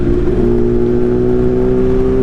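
A motorcycle with a custom-tuned ECM revs loudly and steadily close by, its engine tone rising slightly then holding at a sustained high whine.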